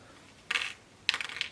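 Old padlock keys from a rekeyed Abus 83/45 padlock are tossed aside, two short bright metallic clatters about half a second apart, close and fairly loud with no talking.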